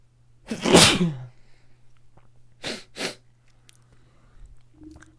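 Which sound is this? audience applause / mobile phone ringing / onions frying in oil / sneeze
sneeze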